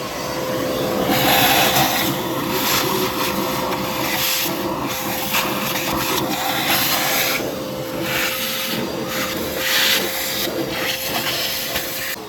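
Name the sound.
vacuum turned on during car oil cooler repair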